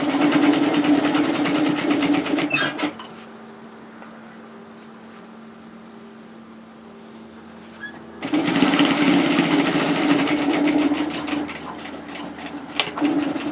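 A sewing machine topstitches a skirt's cargo pocket flap at a quarter-inch width, running loud and steady for a couple of seconds, pausing quietly, then starting up again for a long continuous stretch near the mic.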